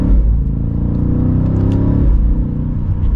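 A 2023 BMW M8 Competition Gran Coupe drives along with a loud, steady engine and exhaust rumble. A quick gear shift briefly changes the pitch partway through, with no talking over it.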